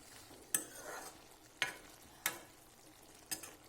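A vegetable curry of bitter gourd and spiny gourd fries gently in oil with garlic, a soft sizzle broken by four sharp scrapes or clinks of a stirring spoon spaced about a second apart.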